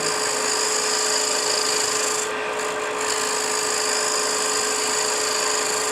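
A turning tool cuts a small chamfer on a wooden piece spinning on a lathe, producing a continuous scraping hiss over the steady motor whine, close and unbroken, with a brief lighter moment midway.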